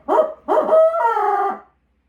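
An owl's hooting call in the 'who cooks for you' rhythm: two short, loud hoots followed by a longer, drawn-out sliding note, close and clear with silence after.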